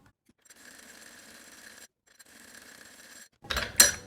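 Sewing machine stitching the waist section of a salwar, two steady runs of faint mechanical whirring separated by a short pause, followed by a louder clunk of handling at the end.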